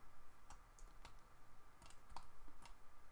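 Mouse clicks sound during AutoCAD work, a handful of short, faint, crisp taps spaced irregularly over a quiet room hum.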